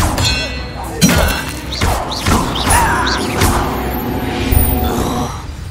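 An Expelliarmus spell cast in Hogwarts Legacy combat, with a run of clanging, thudding impacts and bright dings over several seconds, loud and close, with a grunt among the hits.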